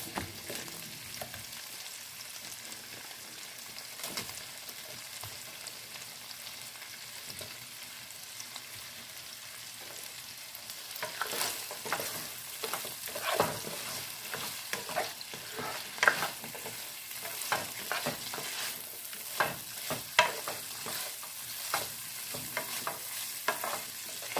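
Cherry tomatoes sizzle gently in a pan with chicken pesto pasta ingredients and are stirred, the scraping and clatter growing busier and louder in the second half. No one speaks.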